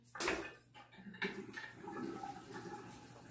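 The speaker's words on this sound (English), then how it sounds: "Let me rinse one more time here." Running water splashes into a bathroom sink while a razor is rinsed during a wet shave, with a sharp burst near the start and a steady close trickle and gurgle after it.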